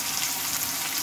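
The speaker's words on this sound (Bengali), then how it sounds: "এবার পেঁয়াজগুলোকে হালকা করে আমি ভেজে নেব" Chopped onions fry in hot oil, a steady, dense sizzle of close, even crackle that holds without pause throughout.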